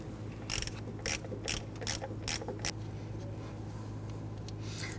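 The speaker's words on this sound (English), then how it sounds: "We're going to loosen that bolt, remove it" A 1/4-inch ratchet with a 10mm socket loosens a sensor bolt on a Hummer H3, giving six quick bursts of clicking at a steady rhythm, close and fairly quiet over a low hum.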